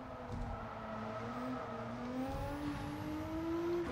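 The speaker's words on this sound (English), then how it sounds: "Car slid all the way around there." A 2017 Nissan GT-R race car in Gran Turismo 7 on Tokyo Expressway drones through a sliding corner, its engine note held steady and then climbing slowly in pitch, close and loud without talk.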